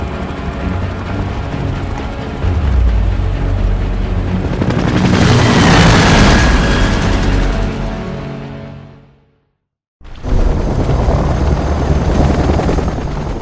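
Loud helicopter rotor and engine roar from the game Gears of War: Judgment, swelling and then cutting out abruptly before resuming at full strength.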